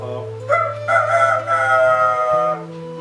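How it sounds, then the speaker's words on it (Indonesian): A rooster crows loudly and close up, one long drawn-out cock-a-doodle-doo that rises and holds before trailing off, over a steady low background hum. "Ayam jago berkokok."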